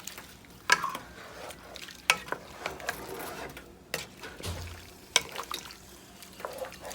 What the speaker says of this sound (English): Just going to stir that together.